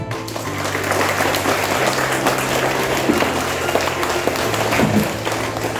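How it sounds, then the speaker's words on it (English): Students at a school prize distribution day clap together, a loud, continuous wash of applause holding steady, with a low hum running underneath. "Clap for yourselves."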